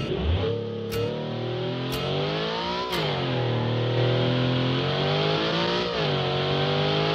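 A video-game car with a V16 engine howls as it accelerates on nitrous, its loud continuous roar climbing in pitch through several gear shifts marked by brief clicks and dips.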